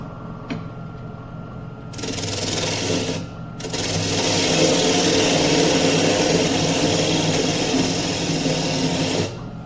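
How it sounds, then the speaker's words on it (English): A small wood lathe turning a soft cedar bird feeder blank while hogging cuts are made, a steady loud motor whine with a gouge scraping and chattering against the wood, briefly dipping near the start before running on, with no talk. "just some hogging cuts. I don't know how it's going to go on this little lathe, but we'll find out"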